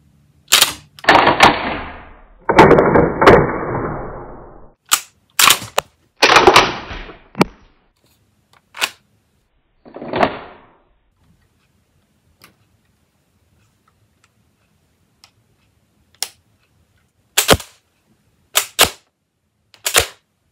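Lego rubber band gun (RBL Mk II) firing and ejecting shells: loud sharp snaps and mechanical clacks in bursts, some with rattling buzz, followed by scattered isolated clicks and a few crisp shots near the end, close up with no talk.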